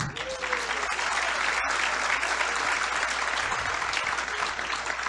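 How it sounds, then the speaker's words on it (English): Sustained applause from a large audience at a spiritual talk, dense and even clapping that fills the whole stretch with no voices over it. "you have to applaud for him"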